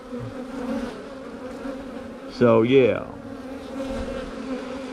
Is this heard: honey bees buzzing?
yes